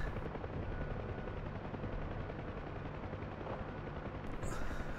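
Dense, rapid gunfire rattles continuously over the roar of a UH-1H Huey helicopter in Digital Combat Simulator, a loud and unbroken clatter for several seconds.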